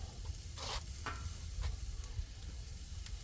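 A cabbage wedge sizzles on a grill, giving a quiet, steady crackle broken by a few short sharper hisses.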